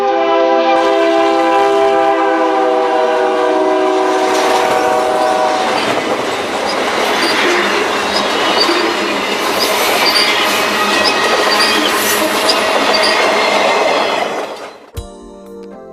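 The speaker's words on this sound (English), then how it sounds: "A local heads east from Ford towards Golden. It's picked up some cement hoppers at a local industry and is trailing a caboose" A local freight train trailing cement hoppers and a caboose passes close and loud. A strong, sustained horn opens over a rumbling, clattering roll of wheels that lasts the whole way, then cuts off abruptly near the end.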